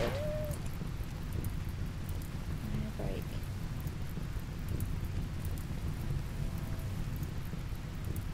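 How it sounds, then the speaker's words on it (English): Steady rain patters throughout with low rumbling thunder underneath in the game RimWorld, while a voice speaks briefly over the storm. "Oh, it's raining."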